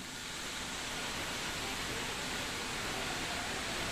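A small splash of water is poured into a pan of Bengali shrimp with taro stolons as it cooks. It makes a steady, even hiss-like rush that lasts throughout, with no voices.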